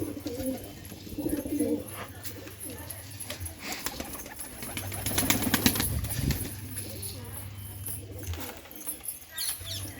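Pigeons coo in low repeated bursts nearby, with wings flapping briefly and faint background chatter.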